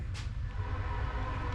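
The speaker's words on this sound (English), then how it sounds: "Ooh, here comes a train." A passing train rumbles heavily and continuously at close range with a loud low-end roar, and a brief higher screech or horn-like burst rises near the start.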